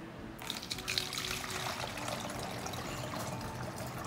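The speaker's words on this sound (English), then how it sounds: "Get your funnel and go ahead and start filling that up." Water pours steadily through a funnel into a plastic bottle, a continuous close, bright splashing rush that runs throughout without a break.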